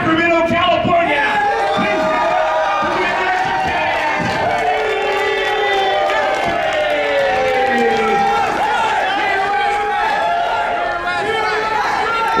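A pro wrestling crowd in Sacramento, California, roaring and cheering continuously, dense and loud with chants and whistles, while an announcer talks over it.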